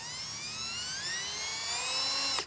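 A power drill with a sharp bit whines close and steady through the sheet-metal cab of a Ford F250, its pitch slowly rising before it stops abruptly.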